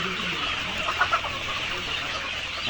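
Layer hens in a poultry shed holding about 3000 birds make a dense, steady background clamour, with a couple of brief louder clucks rising near the middle.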